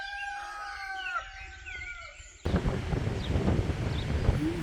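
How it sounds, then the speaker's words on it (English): Two cockerels crow against each other in the countryside, long rising calls at moderate distance, first with a calm background and then under heavy wind rumble on the microphone. "I think there are two cockerels competing."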